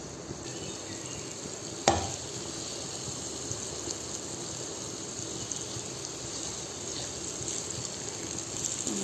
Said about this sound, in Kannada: ನೋಡ್ಬೋದು ಚೆನ್ನಾಗಿ ಫ್ರೈ ಆಗಿದೆ ಮೂಲಂಗಿ